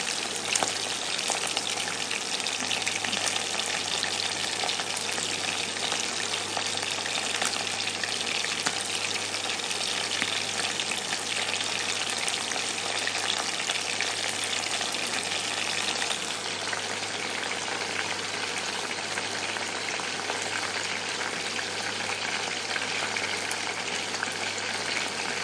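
Chicken pieces frying in oil in a pan make a loud, continuous sizzle that holds steady for the whole stretch, with no talking over it.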